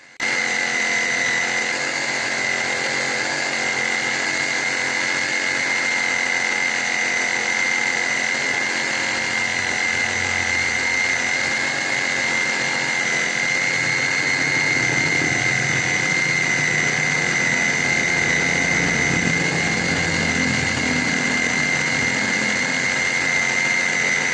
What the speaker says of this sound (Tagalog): Yun nga yung test po natin dito sa reciprocating saw ng Tanzo.